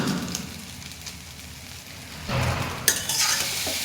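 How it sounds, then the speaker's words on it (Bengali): Noodles fry in a hot pan with a steady close sizzle, then louder stirring and tossing kicks in about halfway, with a sharp scrape as the spatula turns them. "1 মিনিটের মতো ভেজে তারপরে মশলা অ্যাড করব"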